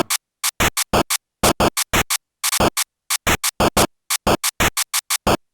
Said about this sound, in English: And then the drums are just samples,